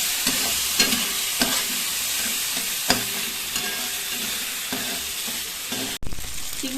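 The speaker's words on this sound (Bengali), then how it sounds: "সামান্য একটু নুন হলুদ দিয়ে চিংড়ি মাছগুলো একটু ভেজে নেবো।" Prawns coated with salt and turmeric fry in a pan of oil, a close continuous sizzle broken by repeated sharp clacks of a spatula stirring, then a brief cut near the end.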